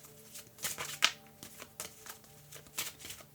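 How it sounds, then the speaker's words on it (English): Tarot cards shuffled by hand in a series of soft, papery riffles and flutters, close and fairly quiet, with a faint steady hum underneath and no talking. "I'm taking the time here to shuffle to really convey here, allowing the cards to speak."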